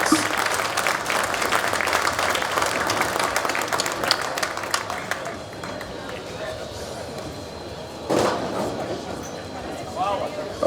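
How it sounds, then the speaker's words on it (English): A large audience at an award ceremony for classic Triple Diamond vehicles gives a strong round of applause that fades out after about five seconds, followed by quieter room noise and a brief thump. "Give all these gentlemen and vehicles a huge round of applause."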